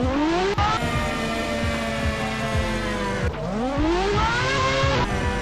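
A loud car engine in the game GTA San Andreas online revs continuously with rising and falling pitch sweeps, gear-change drops and brief tire squeals, filling the whole stretch without any talk.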